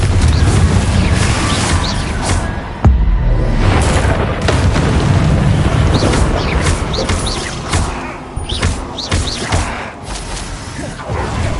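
Incendio fire spells cast in Hogwarts Legacy land as loud, heavy booming blasts, one after another, with whooshing bursts and crackling debris between them.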